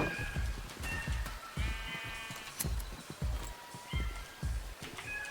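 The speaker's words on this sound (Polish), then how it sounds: "Największa owca w tej zagrodzie." Repeated Minecraft sheep bleats come in quick succession, loud and close, a rhythmic series of short wavering cries over a thumping background.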